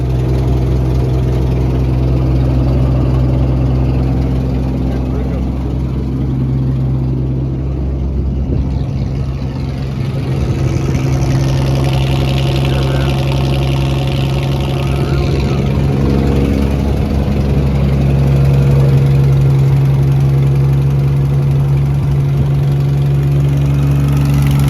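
Engine of an old combine, a Massey 300 or John Deere 4400, running on full choke: a steady, loud, low rumbling idle with a faint knock, continuous and close throughout.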